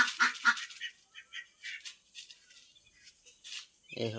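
Ducks quack nearby in short, scattered bursts, several calls in quick succession, then sparser calls, with a voice briefly at the end.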